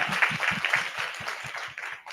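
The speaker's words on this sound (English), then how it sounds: "Just round of applause because this conversation was really inspiring." Applause from an audience at a leadership panel conversation, a steady patter of hand claps of moderate loudness that carries on for about two seconds and thins out toward the end.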